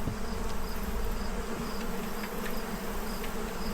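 Bees buzzing steadily around honey boxes being cleared with fume boards, a dense continuous drone with several insects close by throughout.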